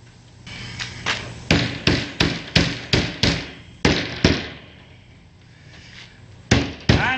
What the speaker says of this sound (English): hammer it out, son.